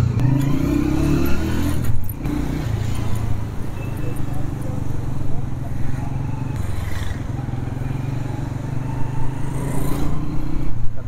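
A motorcycle rides along a busy road with other traffic around, its steady engine drone and low rumble continuous and close, with wind buffeting and occasional passing vehicles in the background.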